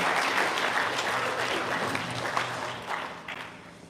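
Audience at a Guam Police Department promotion ceremony applauds a promoted sergeant, a steady wash of many hands clapping that holds for several seconds, then thins and fades near the end.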